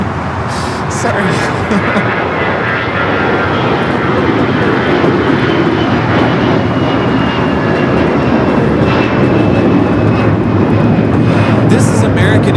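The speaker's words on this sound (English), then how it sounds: "This is American Airlines 2730 taking off to Nashville, Tennessee on the A321" American Airlines Airbus A321 jet taking off from LAX for Nashville, a loud, continuous engine roar held throughout, with a voice talking over it.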